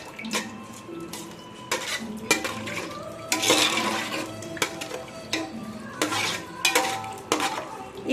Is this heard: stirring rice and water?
yes